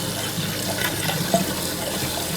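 Water running continuously into a leaking toilet flush tank whose blue float lever rises but fails to shut off the inflow, a close, steady hissing trickle with a small clunk partway through.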